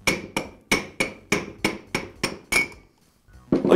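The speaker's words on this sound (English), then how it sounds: "Now I'll use a rubber mallet to remove the armature from the lower bearing." A rubber mallet taps the armature out of the lower bearing of a DeWALT router motor, giving eight evenly spaced, sharp knocks with a faint metallic ring, then a short pause and a ninth strike.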